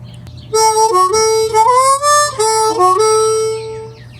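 A harmonica plays a short phrase of alternating notes that bend and slide, clear and close, over a faint low hum, with no talking.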